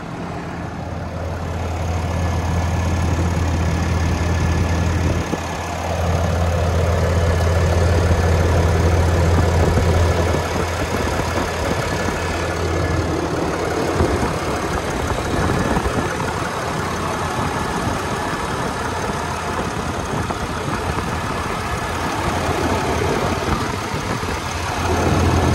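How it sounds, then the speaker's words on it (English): A Ram 2500 pickup truck engine idles steadily and close by, a deep low rumble with a constant hum that holds for the whole stretch with no voices. "I know that you wanted to see the hear the truck running as well"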